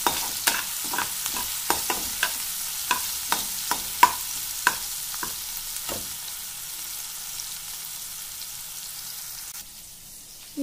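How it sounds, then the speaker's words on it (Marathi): Chili and tomato frying in a pan for spring onion bhaji, with a series of sharp spoon scrapes and knocks against the pan over a steady soft sizzle, stopping partway before the hiss continues alone. "याला छान असं हलवून घ्यायचं आहे, म्हणजे मिरची पण तळल्या जाईल आणि टमाटर पण गाळ होईल."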